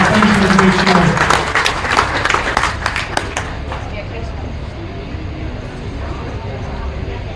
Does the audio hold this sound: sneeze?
no